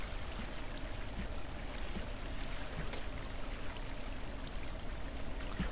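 Flowing water in Minecraft, a constant, even rush of poured or streaming water that holds steady and fairly loud throughout, with no talking over it.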